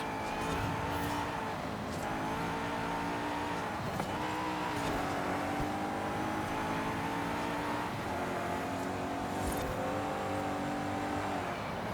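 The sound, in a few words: Ascari KZ1R car accelerating in Forza Horizon 5 race, video game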